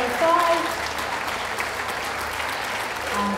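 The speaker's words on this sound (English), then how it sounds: "Round of applause for those leaving the ring, everyone, please." Audience applause at a dog show ring during hound group judging, a sustained patter of clapping from a crowd, moderately loud, with an announcer's voice over it.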